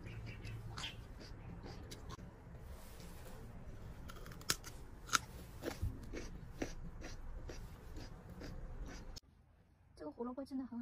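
Crisp, crunchy bites into a washed, home-grown red carrot from a rooftop garden, with several sharp cracks near the middle over a steady low background hum.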